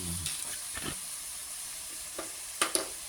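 Shrimp frying in a pan, giving a continuous sizzling hiss with intermittent stirring scrapes and a couple of sharper clatters near the end, close and moderately loud.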